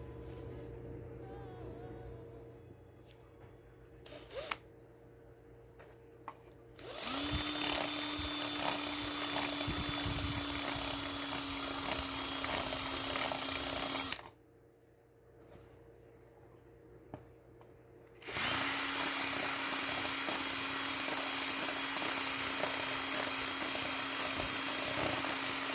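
A power drill boring holes for button anchors in an Arcade1Up arcade cabinet, two long steady whirring runs separated by a quiet pause, loud and close, with faint handling noise before.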